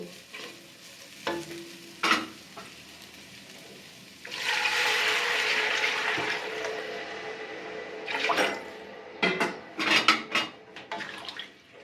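Water splashes into hot pan-fried lentils with a loud hissing sizzle, followed by clinks and scraping of stirring against the pot.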